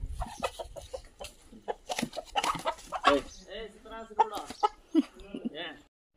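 A chicken brought into a temple during Dussehra festivities clucks in short, rapid bursts close by, mixed in with people talking over it.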